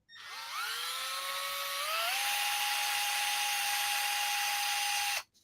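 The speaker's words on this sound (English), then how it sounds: "I cut right through some sheet metal" A power drill on low gear cuts through sheet metal, a loud steady whine that climbs in pitch as it spins up, then holds a sustained high screech for several seconds before cutting off abruptly, with no talking.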